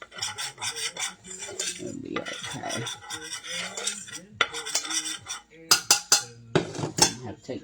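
A utensil scrapes and rasps against a pan while stirring flour cooking into a roux, steady rhythmic scraping strokes, close and clear, with sharper clinks near the end.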